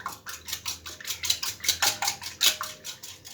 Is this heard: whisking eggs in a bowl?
yes